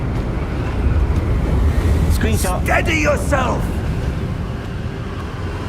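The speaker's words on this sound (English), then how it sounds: "It's windy." Wind gusting in Hogwarts Legacy, a steady breathy rush with a surf-like swell beneath, continuing while someone speaks briefly in the middle.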